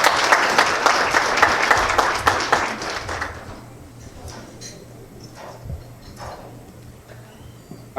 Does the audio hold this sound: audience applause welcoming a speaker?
yes